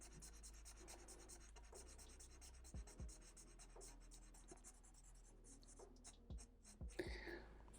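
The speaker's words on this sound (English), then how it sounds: "So shade it in with your pencil" Pencil shading across paper while darkening part of an anime-style character drawing, a steady soft scratching and rubbing that runs throughout, with a few sharper taps and strokes standing out, close and fairly quiet.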